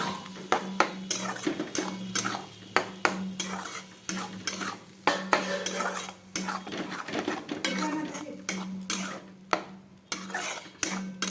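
Spice masala sautéed for oil-spiced boal and rui fish curry, a metal spoon repeatedly clanking and scraping against the pan in an uneven rhythm over a soft sizzle, close up.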